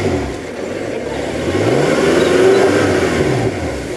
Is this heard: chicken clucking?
no